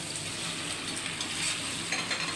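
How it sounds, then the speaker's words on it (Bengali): Fried corn is tossed with sauce in a hot wok for hot and sour corn, giving a continuous hiss and sizzle with soft stirring scrapes and no voices. "এবার ভেজে রাখা কর্নগুলো কড়ার মধ্যে দিয়ে দেব।"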